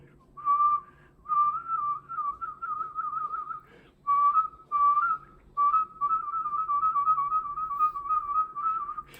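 Someone whistles up close, and the held notes shift into a rapid, wavering warble from puffing a cheek. The phrases come in a run, then as one long trill.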